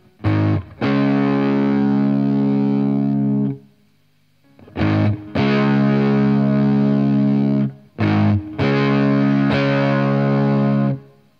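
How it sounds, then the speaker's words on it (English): Heavily distorted electric guitar through a Zander Circuitry Terra Firma pedal plays three sustained, held chords with short silent gaps between them, loud and close. "have more of a distorted signal"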